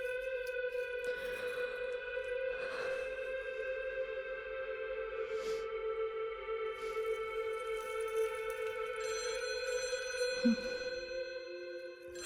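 A telephone rings in a tense scene, as a steady electronic ringing tone holds throughout with a few faint bumps and rustles, and no voice comes over it.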